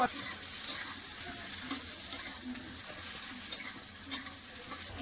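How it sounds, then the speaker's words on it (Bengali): Potatoes frying in a pan after onions, for a Bengali prawn and fish dish, give a steady close sizzle with occasional spatula scrapes and stirring clicks. "আলুটা ভালো করে একটু ভেজে নিই"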